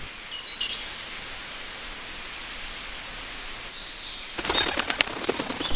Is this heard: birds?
yes